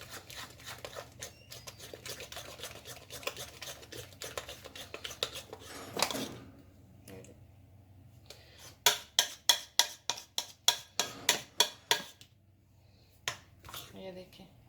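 Pancake batter mixed in a bowl: a utensil clinks and scrapes against the bowl, then a brisk, steady run of rhythmic taps, fairly quiet, with someone speaking at times.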